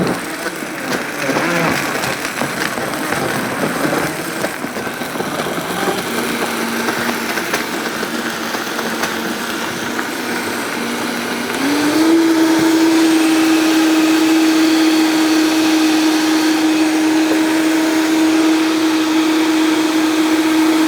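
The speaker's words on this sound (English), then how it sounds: "we're going to put it right on our blender base, and we're going to blend it all up" A countertop blender whirs up a pina colada smoothie, a steady loud motor drone starting around the midpoint and holding at an even pitch to the end, after a stretch of quieter background noise.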